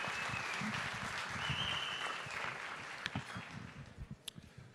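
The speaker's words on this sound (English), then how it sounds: "with the warmest applause, I ask you to greet our beloved Father and Bishop, His Grace, Bishop Suriel." Guests at a Coptic papal gala dinner in Melbourne applaud to greet a bishop, a sustained round of clapping with a faint tone and some voices underneath, thinning to scattered claps at the end.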